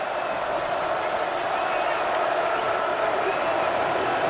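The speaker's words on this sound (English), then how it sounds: "This is the first time we've had a split crowd, so you can actually hear some of the noise" A split stadium crowd at a 2020 Georgia vs Florida college football game roars in a steady, distant wash of cheering and murmur, with a broadcast commentator talking over it.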